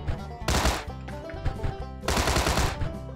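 Automatic gunfire in the Sausage Man shooter game, two loud sustained bursts of rapid shots separated by a brief gap with lighter clatter, close and punchy, no talking.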